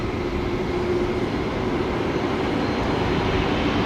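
An Air Calin Airbus A320neo airliner lands on runway 01 at Brisbane Airport, giving a steady, loud roar of jet engine noise that holds constant throughout without any talk.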